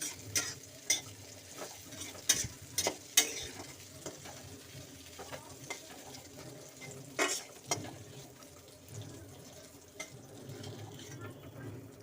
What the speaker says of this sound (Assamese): এইখিনি ভাজি ল'লোঁ, আপোনালোকে এনেকৈ ভাজি ল'লেই হ'ল ঢেকীয়াখিনি।